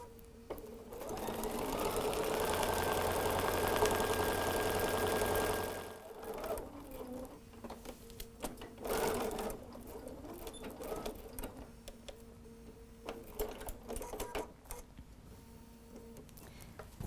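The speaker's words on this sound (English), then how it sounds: "I'm going to go right to the machine. Let's start on this side. We're just going to stitch around the perimeter." A sewing machine stitches around the perimeter of a fabric shopping cart handle cover. It gives a steady, close whirring run for about five seconds, then falls to short bursts of stitching and handling noise.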